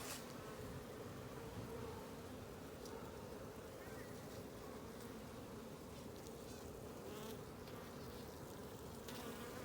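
Honey bees buzz continuously around an opened hive during an inspection as frames are lifted, a dense steady drone with individual bees passing close, faint overall with a voice occasionally underneath.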